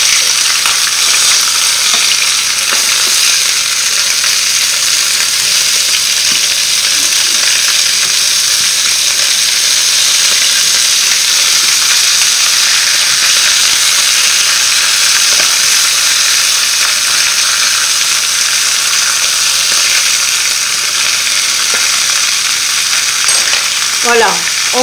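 Chicken pieces for coconut curry chicken fry in a pan, giving a loud, continuous close sizzle and hiss that runs unbroken throughout, with faint occasional clinks and no talking.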